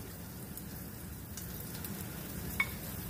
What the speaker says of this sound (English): Close these up and make sure they fry up nice and